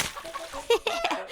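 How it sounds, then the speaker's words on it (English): Toy farm chickens cluck in a short burst of rapid, close squawking notes over a splashy background, with a voice briefly heard. "it's only chickens"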